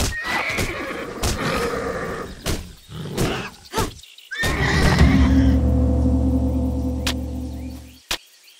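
Horse in the Titan Quest video game neighing and whinnying loudly and close, several sharp snorts and clip-clops up front, then one long drawn-out whinny, ending with a single click.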